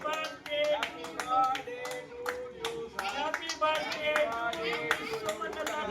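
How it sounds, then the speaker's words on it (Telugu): Guests clap together in rhythm at a birthday celebration, with sharp, close hand claps that come in steady bursts. A voice speaks over the clapping. "చప్పట్లు"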